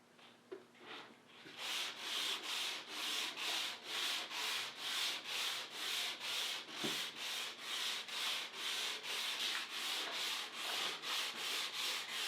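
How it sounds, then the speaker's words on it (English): Sheets of 220-grit sandpaper rasp by hand along the grain of a varnished Singer 301A sewing machine cabinet in slow, even back-and-forth strokes, about two per second, close and steady after a brief quiet start. "So nice slow strokes with the grain. This is the 220"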